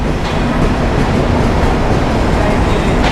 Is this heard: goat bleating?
no